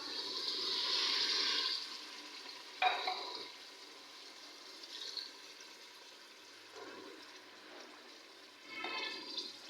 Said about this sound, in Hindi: और अब ये 3 गिलास हम इसमें लस्सी के शामिल करेंगे